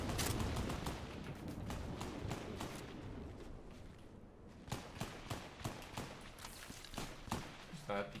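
Repeated sharp gunshots from a shotgun in Fortnite Chapter 4, firing in an uneven rhythm amid busy game noise, with a voice briefly audible.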